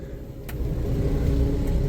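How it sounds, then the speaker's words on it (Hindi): A car pulls out of a hotel in snowy Sonamarg, its engine a steady mid-pitched rumble that builds slightly as it moves off, close by with no talk. "अभी ना मैं होटल से गाड़ी निकाल रहा हूँ बाहर"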